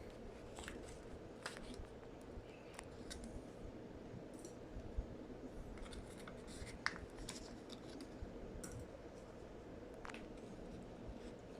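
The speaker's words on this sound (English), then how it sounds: "The problem is these scissors are not very good." Poor-quality scissors snip through kinesiology tape while an ankle is being taped, giving faint, scattered clicks and short cutting sounds over a quiet room hush, with no talking.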